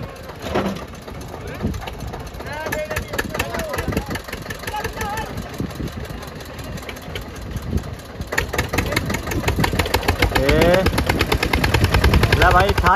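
A 2009 model Eicher tractor engine pounding hard during a tractor tug-of-war contest, a rapid loud diesel knock running continuously and swelling louder toward the end, with excited crowd voices shouting over it.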